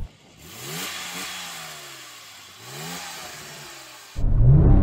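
Engine of a Porsche 911 Turbo of the 996 generation, revved twice in rising sweeps that are cut back against a soft limiter, close and loud, ending in a sudden heavy burst of noise.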